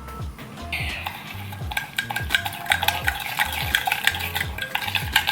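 A spoon scrapes and clinks rhythmically against a bowl as a sugar wax mixture is stirred, repeating steadily with no talking.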